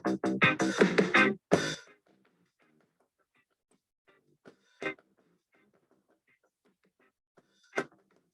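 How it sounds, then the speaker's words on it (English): Scattered taps on a box, a rapid flurry of loud knocks at first, then sparse faint taps spread out with quiet between them. "I'm gonna create a rhythm on my box."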